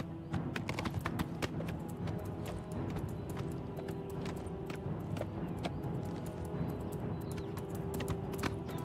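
Steady rapid hoofbeats of a galloping horse in the Oblivion Remaster, continuous and clattering, over a constant low rumble throughout.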